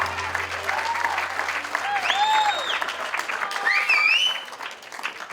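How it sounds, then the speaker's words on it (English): Wedding guests at a Stone Pond reception in Marlborough, New Hampshire applaud the groom and his mother, with lively sustained clapping broken by high whoops and cheers, over a faint low hum. "how about a nice big round of applause one more time for Greg and his mom."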